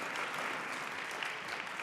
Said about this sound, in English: Round of applause for the SAC group.